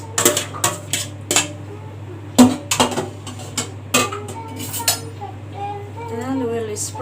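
Macaroni noodles placed in a baking dish and spread with a utensil for macaroni bechamel: scattered close clinks and scrapes against the dish with a low hum underneath and faint voices near the end.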